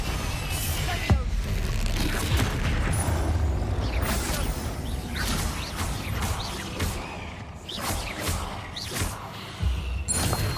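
Spell explosions from Hogwarts Legacy combat against a troll, a dense run of blasts, thuds and whooshes with repeated sharp bursts, loud and continuous under an energetic battle mix, with a voice calling out spells.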